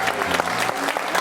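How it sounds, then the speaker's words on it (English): A short burst of audience applause at an improv comedy show, clapping mixed with crowd murmur and what may be a voice or music underneath, moderately loud and brief. "Give Esther a big round of applause."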